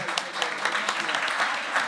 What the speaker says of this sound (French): Est-ce que vous voulez bien faire un petit applaudimètre, messieurs, dames, ce soir?